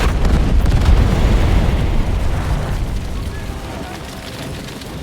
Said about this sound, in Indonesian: Sang tuan rumah menyambut para tamu jahanamnya dengan sebuah lodong yang meledak dan menghancurkan beberapa